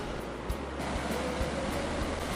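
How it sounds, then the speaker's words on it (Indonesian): Rayap waterfall in the interior of Aceh Utara, at Sidomulyo village in Kutamakmur, pours with a steady, dense rushing roar that stays even and unbroken throughout, with no voices. "Pesona air terjun Rayap di pedalaman Aceh Utara sepertinya bisa dijadikan pilihan lokasi wisata"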